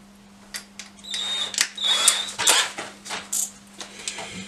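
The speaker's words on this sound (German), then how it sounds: "Da ist ein Bohrer." A small drill gives several short, uneven whirring bursts over a low electrical hum, with pauses between each spin.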